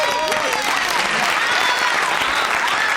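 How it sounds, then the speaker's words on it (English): An audience claps and cheers in a dense, continuous burst of applause that stays loud and steady for the whole stretch, with scattered voices mixed in. "Let's hear a big cheer for them."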